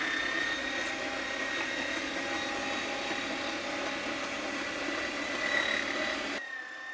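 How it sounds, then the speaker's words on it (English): A meat grinder runs while mincing cold, cubed pork and beef sausage meat, giving a steady whirring motor drone with a faint high whine that continues evenly and then cuts off abruptly near the end. "So let's fire it up and start running through our sausage meat."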